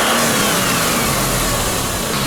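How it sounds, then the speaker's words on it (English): Car engine revved lightly, a cheap used sports car with a bottom-end rod knock, running close and loud as a steady mid-pitched drone with no talk over it. "This car has a rod knock, like a bottom end knock."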